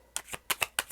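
Tarot cards being handled and drawn from a deck, giving a quick run of about six crisp, papery flicks in an uneven rhythm, close and fairly quiet with no voices.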